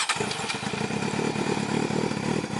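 A 600cc motorcycle engine runs on a first ride, a loud, continuous close rumble with a steady throbbing pulse throughout, no voices over it.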